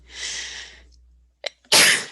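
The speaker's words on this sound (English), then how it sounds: "I'm going to sneeze." A single sneeze up close: a breathy intake, a brief catch, then a sharp, loud burst of air that trails off.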